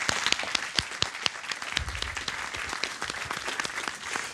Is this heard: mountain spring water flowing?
no